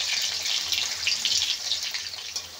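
Potatoes frying with asafoetida in a pan for a vegetarian soybean and chickpea dal dish, a steady bright hiss and sizzle that crackles unevenly, close and fairly loud.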